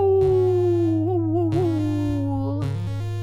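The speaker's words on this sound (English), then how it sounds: "Bark, bark. Is that a dog?" Dog howling and barking in the video game You Will (Not) Remain, drawn-out tonal howls over a steady low droning background, heard alone without talk.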